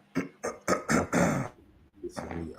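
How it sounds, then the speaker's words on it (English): A person clears their throat with a few rough, guttural bursts up close, then a short vocal sound follows. "Let me clear my throat right now."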